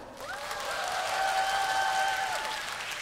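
Applause from a packed crowd of fans at a K-pop debut showcase swells and holds steady, a dense wash of clapping with faint cheers, while a sustained electronic tone glides through the middle.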